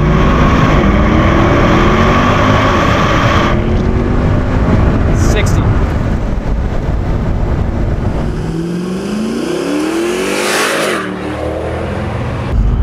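A fast car accelerating hard during a 0 to 60 test, a loud sustained engine roar with rising pitch sweeps as it pulls through gears, heard from inside the car with some wind and road noise.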